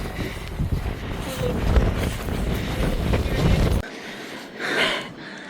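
Strong wind on a hilltop during a hike in Germany: loud, roaring gusts buffet the microphone, then drop away sharply near the end, leaving a fainter whoosh.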